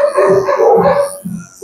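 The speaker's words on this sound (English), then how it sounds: "All the dogs barking." Several dogs bark and howl together in a dense, continuous chorus, loud and close, with a brief dip before the barking picks up again.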